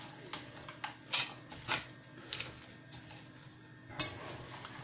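Marinated catfish pieces and onion are moved back into a pot in a kitchen, giving scattered light clinks and knocks of utensil against cookware over a quiet background.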